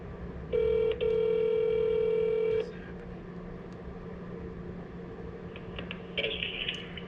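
A telephone rings once with a long, steady electronic tone while a call goes out to an auto parts shop, clear and close, followed by quiet line noise and faint background sounds.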